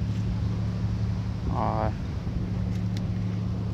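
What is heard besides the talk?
wind blowing at a beach on Sentosa Island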